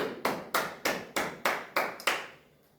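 Children in a physical education class clap together in a steady beat, about eight sharp, loud claps in unison, each ringing briefly before the next, with no talking over them.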